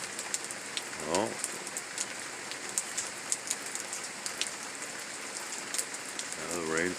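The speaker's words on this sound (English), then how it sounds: "Now the rain's picking up once again." Steady summer rain patters and hisses on surfaces close by during a thunderstorm afternoon. A few louder drips stand out, and a brief tonal sweep rises twice in the background.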